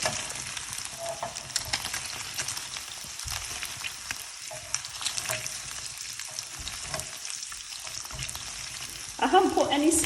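Paneer cubes fry in oil in a pan until slightly golden, a steady bright sizzle crackling throughout, with a louder clatter of stirring near the end.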